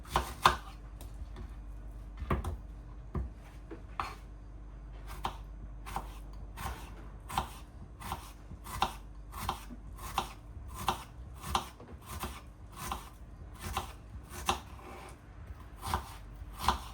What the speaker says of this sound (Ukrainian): Цибулину я нарізаю так наполовину кільцями.